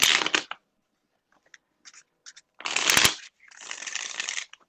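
Playing cards being shuffled in several crisp riffling bursts, separated by short pauses with faint handling sounds and no talking.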